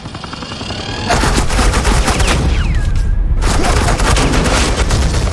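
Sustained automatic gunfire in the Batman: The Enemy Within video game, a loud, close burst of rapid shots that runs continuously after a short quieter opening.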